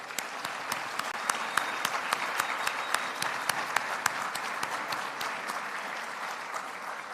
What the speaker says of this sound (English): A big hand of applause for them, please